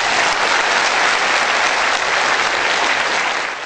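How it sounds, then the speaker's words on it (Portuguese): A large assembly audience gives a loud, sustained round of applause for Renato, dense clapping filling the whole stretch and easing off slightly at the end. "a qual eu peço uma salva de palmas para o Renato"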